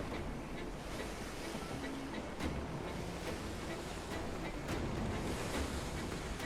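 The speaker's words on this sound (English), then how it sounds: "Waves are ridiculous over here." Ocean waves roll and crash in Assassin's Creed Black Flag during a sea voyage, a continuous broad rushing surge with wind-like noise, loud and steady throughout with no speech over it.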